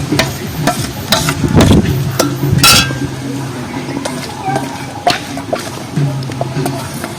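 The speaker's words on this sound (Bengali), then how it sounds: "আর যে আমের কাঁপটা ছিল সেইটা আমি কড়ার মধ্যে দিয়ে দিচ্ছি" Mango pulp going into a wok on a stove, with a soft stirring and scraping of a utensil against the pan, a few light clinks, and a faint low sizzle, close and without talk.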